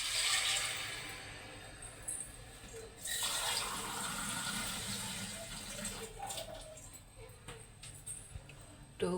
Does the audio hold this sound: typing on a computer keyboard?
no